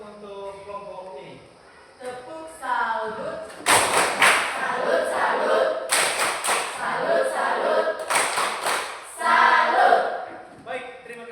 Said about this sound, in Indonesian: kita sekali lagi berikan tepuk salut untuk kelompok ini